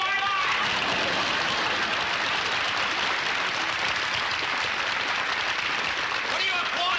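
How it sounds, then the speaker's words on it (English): Steady, dense applause from a television variety show's studio audience fills the room for several seconds at an even level with no break. "What are you applauding for?"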